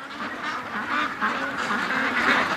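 Free-range ducks at a lake make a steady babble of many overlapping quacks, a busy flock chorus at middling distance with no voices.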